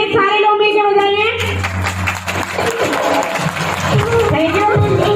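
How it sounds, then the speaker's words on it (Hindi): An audience at a motivational speech event bursts into loud, dense group applause that carries on for several seconds, with someone speaking over the start and some cheering mixed in. "चलिए तो बेहतर वाली एक ताली होनी चाहिए, सारे लोग मिलकर बजाइए।"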